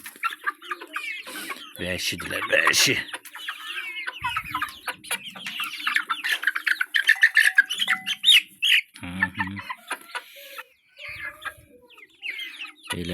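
Chickens and Litboğaz roosters cluck and squawk busily at close range. Someone talks briefly among the birds.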